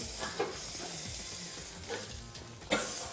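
A beef rib steak (côte de bœuf) sizzling on a barbecue grill, a steady hiss with a few sharp crackling spurts as the meat is handled and turned, close and continuous, with no speech.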